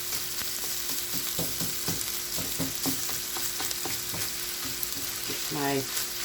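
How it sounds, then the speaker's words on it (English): Sausage and chorizo browning in a frying pan, a steady close sizzle broken by repeated scraping stirs, with a faint voice briefly near the end. "Get your sausage all nice and brown and cooked in."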